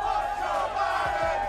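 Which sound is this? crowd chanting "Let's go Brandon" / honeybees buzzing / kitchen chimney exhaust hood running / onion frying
crowd chanting "Let's go Brandon"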